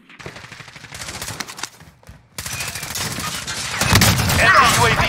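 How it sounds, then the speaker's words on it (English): Gunfire in Call of Duty Warzone: bursts of rapid automatic shots crackle in clusters, break off briefly, then return in dense, sustained fire that grows louder and rougher toward the end over busy game noise. "Enemy fire!"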